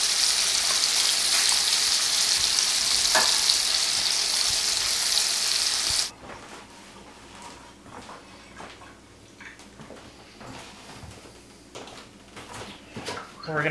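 Pork chops frying in a crowded pan, a loud close hiss for about six seconds that drops to a faint sizzle with scattered light kitchen knocks, no talking.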